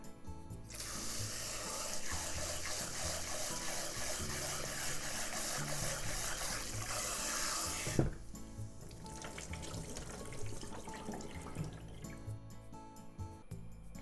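Water runs and splashes over rice being rinsed in a kitchen sink for asari clam rice, a continuous pouring rush with a sharp clatter partway through, then quieter dripping and swishing.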